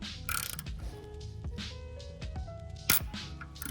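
A hand tool works a bolt free from BMW E46 timing components, giving a run of small metallic clicks, ratcheting ticks and scrapes, quiet and close, with a sharper clack near the end.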